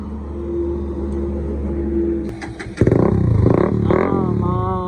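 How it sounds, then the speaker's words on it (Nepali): A Bajaj NS160 motorcycle with its dB killer removed from the exhaust idles with a steady low drone, then its exhaust barks louder through a few sharp blips of the throttle, close to the microphone. "बिना डिबी किलरको आवाज बेस बढी आउँदो रहेछ"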